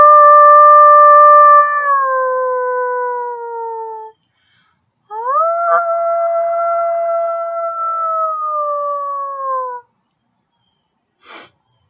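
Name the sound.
person imitating a wolf howl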